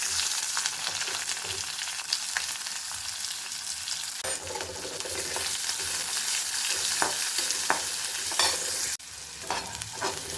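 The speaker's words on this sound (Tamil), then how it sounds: "இது கூட கட் பண்ணி வச்ச வெங்காயத்தை சேர்த்துக்கிறேன்." Chopped onions sizzle and fry in hot oil with spices for chana masala, a steady dense crackle with occasional stirring scrapes and a brief shift near the end, no talking.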